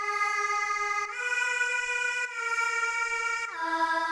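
Sped-up choir synth melody pitched up an octave plays alone in a trap beat, a bright sustained chord-like tone that steps between notes with brief dips and a gliding drop near the end.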